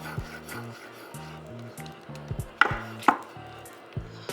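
A knife chops mushrooms steadily on a cutting board, sharp knocks in an irregular rhythm with a few louder thuds, close up, with soft music underneath.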